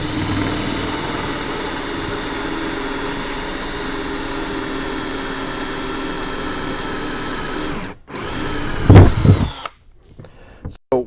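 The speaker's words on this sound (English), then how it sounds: "I'm going to drill my hole straight down there" A power drill bores a hole in metal for a bulkhead fitting, with a steady loud motor whine held for about eight seconds, then a brief stop, a short louder burst of drilling, and silence.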